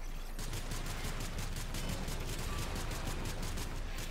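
Rapid, sustained automatic gunfire from a gun with an enlarged magazine in Warframe, played on PS4 during a sabotage mission; a steady stream of regular shots continues throughout at an even, loud level.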